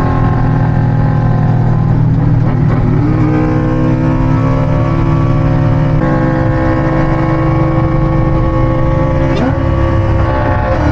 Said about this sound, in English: how about you guys watch this race with my Mustang and my boy's RSV4